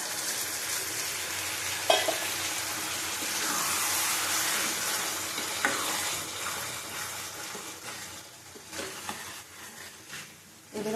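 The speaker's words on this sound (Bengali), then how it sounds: "এবার আমি পরিমাণ মতো একটুখানি অল্প জল দেবো।" Warm water poured into a pan of spiced taro cooked with yogurt and tomato, setting off a loud, steady sizzle and bubbling. It continues unbroken with a few stirring knocks and fades slightly toward the end.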